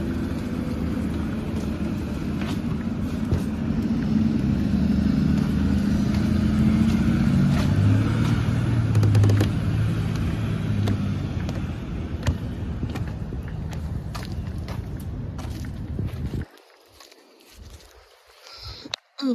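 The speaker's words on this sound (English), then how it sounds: "Hold on, let me wait for this bus." A bus rumbles past on a street beside a garden, a loud, steady engine and road roar that holds, then fades away near the end into near quiet.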